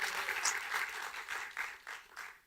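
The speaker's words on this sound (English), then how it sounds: "Round of applause, make some noise." Brief, faint audience applause for Mr. Fungai Musana at the Africa Pachipanda Challenge final, a thin scattering of claps in soft, pulsing waves.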